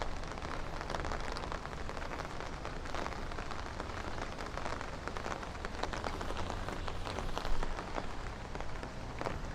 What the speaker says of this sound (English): this turned into a thunderstorm walk to a thunder and rain walk